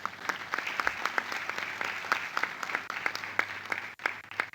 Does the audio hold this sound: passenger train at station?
no